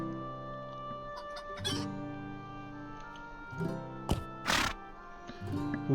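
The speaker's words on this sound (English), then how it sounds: "Who art thou, rooster?" A rooster on a farm in the Lord of the Rings Online video game gives several clucking calls and crow-like bursts over a steady tonal hum. Sharp clicks mark the bursts, and there is no talking.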